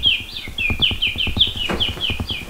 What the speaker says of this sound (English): Okay, we can do the morning bird.